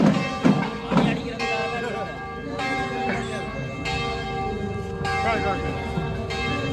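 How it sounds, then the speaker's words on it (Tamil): A Murugan temple bell is struck again and again in a steady rhythm, its ringing tones overlapping, with voices murmuring in the background. "அது முருகன் கோயில் மணியும் அடிக்கும்."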